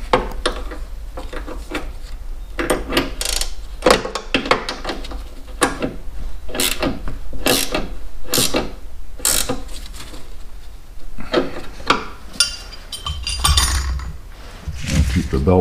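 A bolt is tightened on the auger belt cover of a Troy-Bilt snow blower, producing a close series of sharp metallic clicks and clanks in quick bursts with short pauses.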